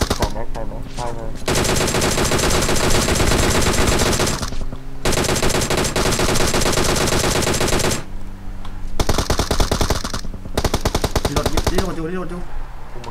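Loud, sustained automatic gunfire in PUBG Mobile, with long rapid bursts broken by short gaps and a few clipped volleys, close and dominant throughout.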